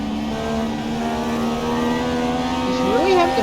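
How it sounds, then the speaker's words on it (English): A race car engine holds a steady harmonic drone on track, the throttle easing and feathering before the pitch swings sharply upward near the end, fairly close and loud. "Watch his inputs, as well as listen to the throttle"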